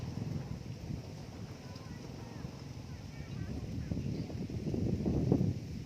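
Wind blows across an open countryside with grazing buffalo, a steady low rumble of gusts buffeting the microphone that swells louder toward the end.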